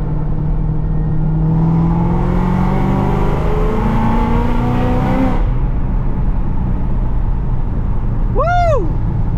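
Ford Shelby GT500 accelerating hard, a loud engine roar that climbs through the revs for several seconds, then drops off, followed by a brief rising-and-falling whoop that sounds like a voice.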